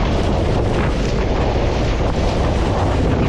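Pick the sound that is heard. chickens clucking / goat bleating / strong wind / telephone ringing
strong wind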